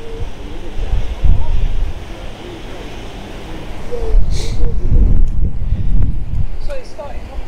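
A swollen river rushing high and close to bursting its banks, its steady roar running throughout, with someone talking over it and gusts of wind buffeting the microphone.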